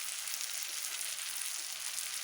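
Ginger, garlic, fennel seeds, black pepper and green chillies sauté in hot oil for chicken kadai, giving a steady, bright, close sizzle that holds even throughout, with no talking.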